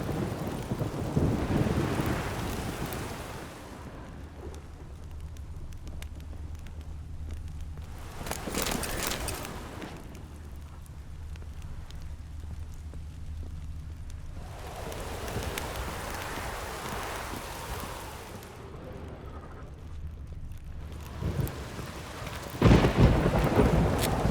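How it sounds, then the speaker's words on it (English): Thunderstorm in the video game The Witcher 3, with steady rain and several loud, rolling thunder crashes every few seconds over a low background hum. "Storm, damn it."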